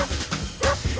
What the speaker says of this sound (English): Listening to Bindi and Crikey's playful barking, their voices at first seemed far away, but then quickly grew closer and closer.